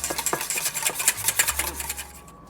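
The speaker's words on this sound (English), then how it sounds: "We're gonna break those eggs. And let's whisk those together." Quick clattering taps of a utensil whisking two eggs together in a bowl for muffin batter, close and brisk, a rapid irregular rhythm that fades out at the end.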